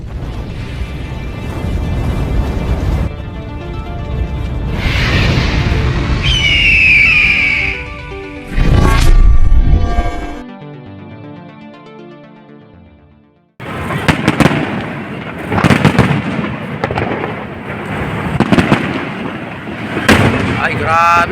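A fireworks display at an inauguration over the Pasig River esplanade booms and crackles loudly and continuously, with dense bursts and pops, a brief lull midway, then a renewed barrage, while voices talk underneath.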